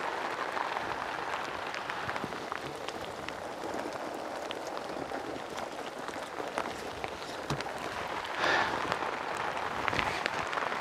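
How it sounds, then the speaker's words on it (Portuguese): Heavy rain falls outdoors in a steady, hissing patter with scattered sharper drops, swelling slightly near the end, with no voices. "nós estamos debaixo de uma chuva danada"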